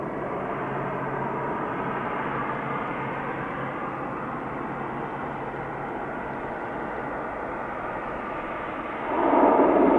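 A Loganair airliner at Manchester Airport produces a steady, loud broadband engine roar that swells near the end as the jet nears.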